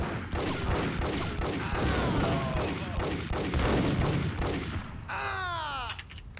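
Gunfight in the video game Max Payne: dense rapid volleys of gunfire throughout, loud and close, with whizzing ricochet-like sweeps near the end.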